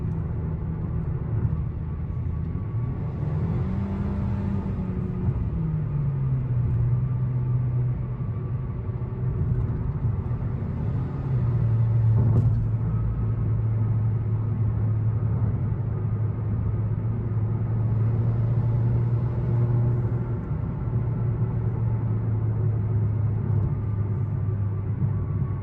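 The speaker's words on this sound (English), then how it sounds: "Just want to do some throttle response tests." Kia K5 GT-Line engine fitted with a Velossa ram air intake, heard from inside the car as a steady low rumble that rises in pitch on short throttle blips, then settles back to a sustained drone.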